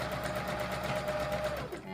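A sewing machine stitches lace onto a fabric collar, running in a steady close whir for about a second and a half before slowing to a stop.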